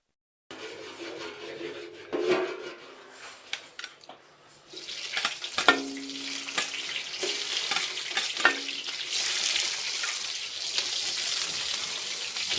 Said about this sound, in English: We're just going to sear this